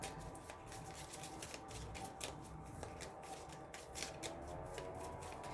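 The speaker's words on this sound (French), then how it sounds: "On va prendre ici une autre carte" Tarot cards are shuffled and handled close by but quietly, with repeated riffling flicks and soft card slides in an irregular rhythm.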